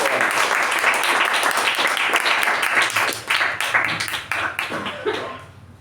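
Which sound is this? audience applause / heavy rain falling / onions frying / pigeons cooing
audience applause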